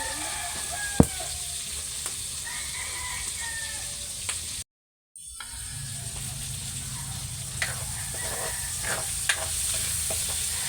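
Sautéing chicken for adobo sizzles steadily in a hot pan with occasional stirring clicks and pops, briefly going silent midway before the sizzle resumes at a constant level.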